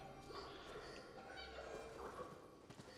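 A house cat gives faint, soft meows in a quiet room, low and intermittent against light background noise.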